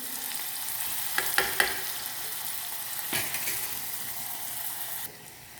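Onions fry in a pan with a steady, close sizzle throughout and a few clinks of stirring, then the sizzle drops quieter near the end.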